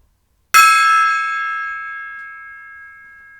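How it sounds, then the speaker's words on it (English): A single sharp strike on a gong rings out loud and close, then leaves a long, bright, shimmering tone that slowly fades over several seconds with no talk. "and it will get a smack from the gong"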